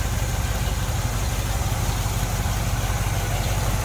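A 1963 Chevrolet Impala SS tribute with a 400 cubic inch V8 idles smoothly and steadily, a close, even low rumble with a constant mechanical hum and no voices.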